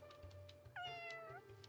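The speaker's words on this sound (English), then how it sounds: "Let me adopt this cat real quick." A cat in the video game Fire Emblem Engage gives a single clear, drawn-out meow with a falling pitch, close and prominent over a steady low background hum and soft game music.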